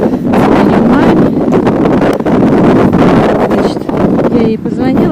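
Strong north wind buffets the microphone outdoors in a continuous loud roar and rumble, with brief dips and gusts throughout and no clear voice audible over it.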